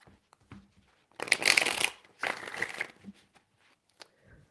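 Tarot cards shuffled by hand at a desk in two bursts of riffling, crisp papery flutter, each about a second long, close and fairly soft, with brief taps and handling between them.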